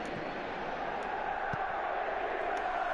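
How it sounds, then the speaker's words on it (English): Stadium crowd in the PES 2016 football video game, a steady, distant wash of massed voices murmuring and roaring without a break, with no clear peaks. "Crowd appreciates good football all round there."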